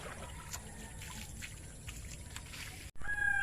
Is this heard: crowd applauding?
no